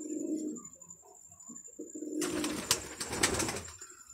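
Pigeons cooing nearby, soft low throaty coos at first, then a louder burst of rustling and fluttering with a faint high steady tone running throughout.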